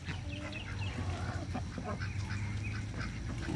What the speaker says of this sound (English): I really do enjoy having the ducks around